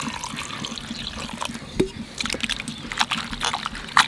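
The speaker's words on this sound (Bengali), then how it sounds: "কলার থোরটা একটু ধুয়ে নেবো, যাতে এই কালো কষটা থাকবে না।" Banana stem being washed in water, with splashing, dripping and rinsing sloshes coming in irregular bursts, growing busier toward the end, close and fairly loud.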